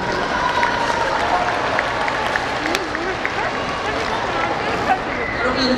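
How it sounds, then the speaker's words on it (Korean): An audience claps and cheers at a writing contest ceremony, a steady dense wash of applause that holds for several seconds while a voice speaks over it through a hall sound system. "이렇게 열심히 환호해주셔서 너무너무 감사합니다"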